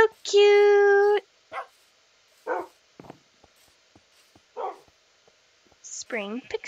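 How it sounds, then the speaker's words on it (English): Puppies in a video game: a drawn-out high whine opens, then short scattered yips and barks with quiet gaps, ending in a quick rising squeal, all close and clear. "Puppies! Puppy!"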